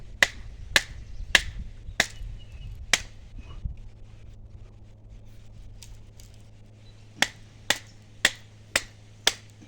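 Sharp, separate cracks from splitting an elm sapling into a bow stave, a rapid run of loud snaps at the start, then a quiet stretch, then another quick series of crisp cracks near the end.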